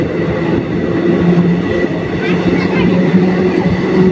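The Maa Tara Express rolls along after leaving Bardhaman, giving a loud, steady rumble with a continuous drone and faint rhythmic clatter from the wheels throughout.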